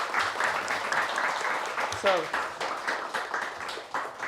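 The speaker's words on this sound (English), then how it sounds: "Big applause." An audience applauds at a summer student project demo event, a steady patter of clapping at moderate distance while someone talks over it.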